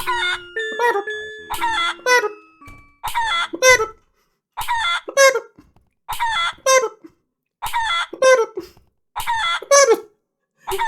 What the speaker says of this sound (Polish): Stopy od, od kurczaka tu teraz idą.